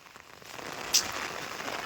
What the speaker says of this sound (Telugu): ఫుల్ వాన.